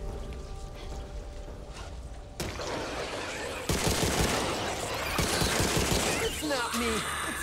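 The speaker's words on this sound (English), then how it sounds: "I kind of like the hip fire better than aiming down the sight" Hip-fired guns in the zombie shooter game Back 4 Blood crackle in dense bursts, getting louder and busier partway through, with game sounds and rain-like hiss underneath.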